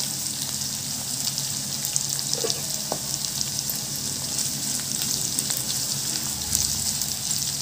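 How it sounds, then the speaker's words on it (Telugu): Curry leaves sizzle in hot oil for tempering an amaranth-leaf pulusu curry, a steady close frying hiss with scattered crackles and pops that runs continuously without speech. "ఇప్పుడు కరివేపాకు వేసుకుందాం."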